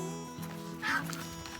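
A duck quacks once in a short burst partway through, moderately close, over a steady background hum at a rural roadside stop.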